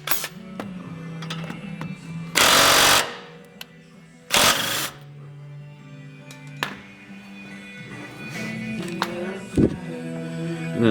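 Power tool loosening the upper ball joint bolt during a camber kit install on a Honda EF, two loud close bursts of rattling impact followed by quieter clicks and shop sounds.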